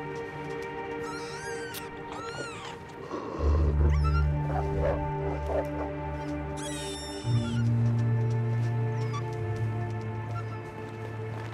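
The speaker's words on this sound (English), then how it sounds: "I could hear the wolf outside growling and attacking rabbits." Wolf growling and snarling while attacking rabbits in the survival video game The Long Dark, with deep rumbling growls coming in bursts over a layer of steady game ambience and small scattered animal sounds.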